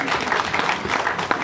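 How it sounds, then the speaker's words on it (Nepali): A crowd applauding, dense steady clapping that fills the short stretch without a break, with a faint murmur of voices behind it. "अब चाहिँ ताली बजाइदिउँ"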